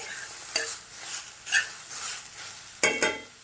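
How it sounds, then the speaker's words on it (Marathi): Tomatoes with green chillies and garlic roast in a pan for a red gravy, a soft steady sizzle punctuated by several close scraping stirs of a spoon, no talk. "तर आता छान असं आपण भाजून घेऊया थोडंसं आपण टोमॅटो मऊ देऊया"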